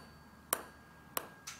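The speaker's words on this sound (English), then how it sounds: "All I'm going to do is I'm going to set my tuning fork going" A vibrating tuning fork held against a suspended ping pong ball gives three quick, sharp ticks as the ball bounces off the prongs, over a faint steady ringing tone. The sounds are quiet and close, with no talking.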